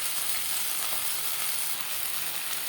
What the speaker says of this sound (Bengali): তিনটে আমি এখন ভেজে নিলাম, আর দুটো আমি পরে ভাজবো